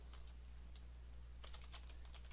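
Keys tapped on a computer keyboard while a formula is typed into an Excel 2013 spreadsheet, quick soft clicks in short bursts over a steady low hum, with a denser run of keystrokes near the end.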